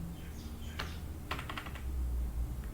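Rapid clicking of a computer keyboard as Python code is typed, arriving in short bursts of key presses with brief pauses, moderately close and free of talk.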